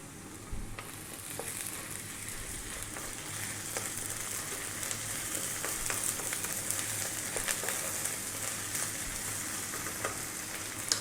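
Garlic ginger paste sizzles in hot oil with curry leaves and spices for a prawn curry, a steady close crackling fry with a few faint stirring scrapes and no voices.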